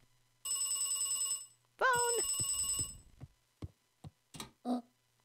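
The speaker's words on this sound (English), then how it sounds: "Phone!" Telephone ringing in the video game Beacon Pines: two loud electronic bell rings, the second with a falling warble, followed by a few scattered clicks and soft thuds, no talk over it.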